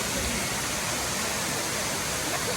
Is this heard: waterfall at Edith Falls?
yes